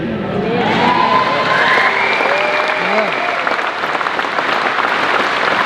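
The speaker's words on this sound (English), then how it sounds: "What you are applauding right there" Heavy audience applause with cheers during a speech, dense and continuous, shouts and whoops rising over the clapping before it stays steady to the end.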